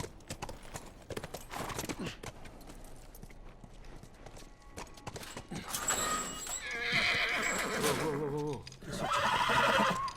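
A horse in The Last of Us Remastered lets out two loud, close whinnies near the end, after several seconds of scattered game clatter and ambient noise.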